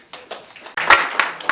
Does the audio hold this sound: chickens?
no